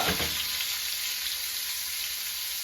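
Steady, bright sizzling of sweet potato and chorizo frying in a pan, continuous and fairly close, with no talking.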